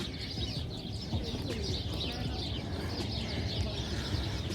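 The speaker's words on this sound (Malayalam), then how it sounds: "ഈ സൈഡിൽ മുഴുവൻ പ്രാവുകളാണ്." Pigeons in an outdoor enclosed area in Kuwait coo and chirp softly and continuously, with general background murmur and faint distant voices.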